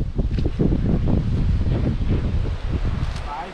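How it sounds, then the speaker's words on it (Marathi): Strong coastal wind in the Konkan blowing across the microphone in steady rushing gusts, with people talking over it throughout. "वाऱ्याचा आवाज बघा किती येतात तो"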